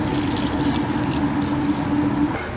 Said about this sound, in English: By pouring hot water on the skin, you're tightening the skin.